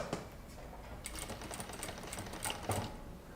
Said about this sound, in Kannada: ಈ ಥರ ವಿ ಶೇಪಲ್ಲಿ ನಾನೊಂದು ಸ್ಟಿಚ್ ಹಾಕ್ಕೊಳ್ಬೇಕು